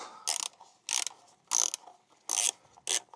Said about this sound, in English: Now let's take the number 8 socket and remove